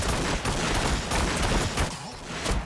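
Dense gunfire volley from a Warhammer 40,000 battle between Orks and Blood Angels, a continuous loud crackle of overlapping shots lasting a few seconds with no pause.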